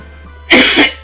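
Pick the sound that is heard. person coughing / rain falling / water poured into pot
person coughing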